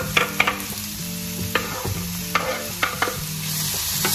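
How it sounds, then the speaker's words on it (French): Small onions frying in a spoonful of oil in a pan, a loud close sizzle broken by repeated clicking and scraping stir strokes, no speech. "On met nos petits oignons dans notre huile."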